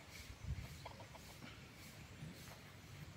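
A red junglefowl breeding rooster kept around a house gives a few soft, quick clucks, heard close but quiet over faint outdoor background noise.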